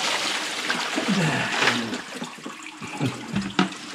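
Water thrown from a bucket onto a floor: a sloshing splash and spreading wash of water, followed by scattered drips and smaller splatters as it settles.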